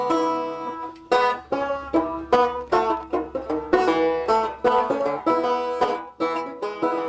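Homemade solid-body guitar with half a snare drum head as its resonator, strummed and picked in a steady rhythmic pattern of bright, twangy chords, close and loud with no talking.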